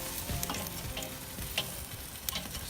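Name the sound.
chicken thighs sizzling as skin crisps on a grill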